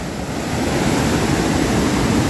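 A waterfall beside a building in Seoul, a steady loud rush of falling water with no break, heard close.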